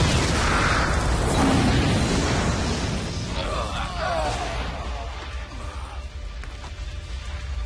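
A cruiser explodes in the Star Wars Rebels cartoon, a loud broadband boom with a rumbling roar that gradually fades over several seconds, heard alone without dialogue.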